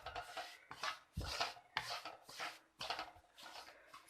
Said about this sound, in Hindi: मुसलसल चम्मच हिलाते हुए भूनेंगे हम इसे